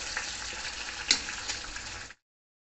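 Cashews and green chilies with tomatoes fry in an oil-filled pan for palak paneer, a steady close sizzle with one sharp spit of hot oil partway through before it cuts off.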